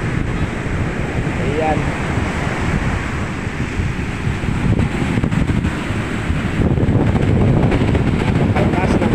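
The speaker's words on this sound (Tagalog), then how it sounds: "Napakalakas ng alon dito." Strong sea waves crashing on a beach shore, a loud continuous roar of surf mixed with heavy wind buffeting the microphone, while a voice briefly speaks.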